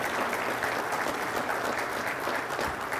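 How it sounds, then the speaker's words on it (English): Sustained applause from an audience at a congressman's talk in Tomball, dense and steady throughout with no speech over it. "deserve a round of applause there"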